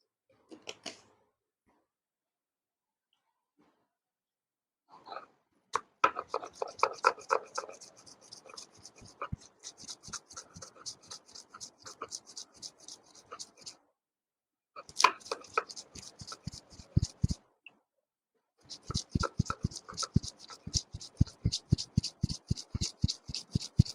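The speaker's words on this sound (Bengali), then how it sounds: "সরষেটা আমার বাটা হয়ে গেছে" Mustard seeds mixed with turmeric and salt are ground by hand on a stone, giving bursts of quick, rhythmic scraping and grinding strokes, close and fairly quiet, separated by short pauses.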